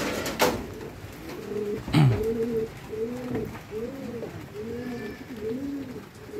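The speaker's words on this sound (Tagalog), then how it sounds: "ito yung first bird natin" A racing pigeon arriving at a fun race loft in Cavite gives a run of about six soft, rhythmic coos close by, with a few faint clatters and bumps around it.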